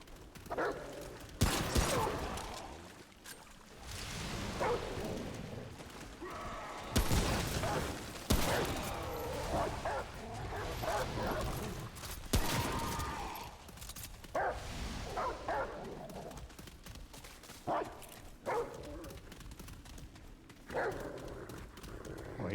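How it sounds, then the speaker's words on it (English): A dog in the video game Remnant from the Ashes barks repeatedly in loud, sharp bursts, mixed with gunfire and combat clatter throughout. "he sure does bark a lot"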